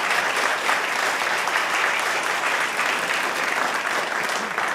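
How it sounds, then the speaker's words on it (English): Audience applause for Toronto Concert Orchestra musicians at Zoomer Hall: dense, sustained clapping from a large crowd, steady and loud throughout with no speech. "they deserve a round of applause"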